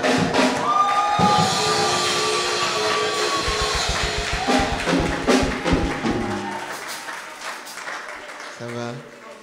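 Church congregation acclaiming the Lord, a loud burst of clapping and crowd cheering that fills the room, with voices rising over it, then gradually thinning out toward the end.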